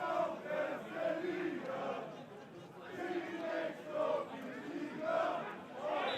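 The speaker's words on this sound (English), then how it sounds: "The home crowd now definitely letting their voices be heard." Home supporters at a FENIX Trophy football match between HFC Falke and CD Cuenca-Mestallistes chant in rhythmic, repeated swells, a sustained distant crowd roar rising and falling throughout.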